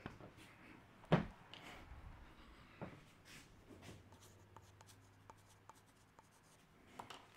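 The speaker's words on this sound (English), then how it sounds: "And I'm going to write on it." A pen writes on an object indoors in a quiet room, making soft, short scratching strokes after an initial louder knock.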